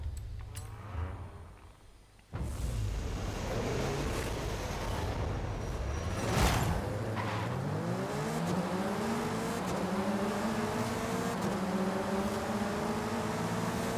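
Modified Honda Civic racing in Forza Horizon 5: after a quiet start the engine roars in abruptly, then revs climb repeatedly through gear changes, loud and continuous.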